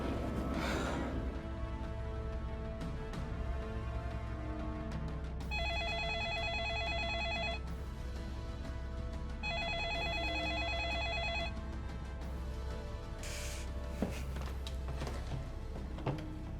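A telephone rings during a call: two electronic ringing bursts, each about two seconds long, sound over a low steady background hum. There is no talk.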